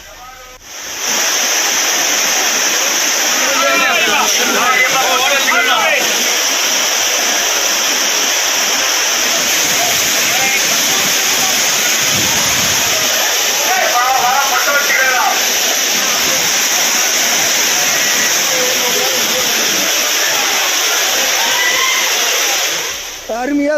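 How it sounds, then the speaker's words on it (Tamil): Heavy water pours down the Courtallam falls as pilgrims bathe beneath it, making a loud, steady, broadband roar that runs unbroken throughout, with faint voices of bathers occasionally rising above the rush. "அவர்கள் அனைத்து அருவிகளிலும் ஆனந்தமாக குளித்து உற்சாகம் அடைகின்றனர்"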